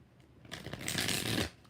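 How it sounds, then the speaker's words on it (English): Tarot cards being shuffled by hand, a soft brief riffle that swells to a dense papery flutter for about a second, then stops, close and quiet with no talk. "All right, 5 shuffles for Ash."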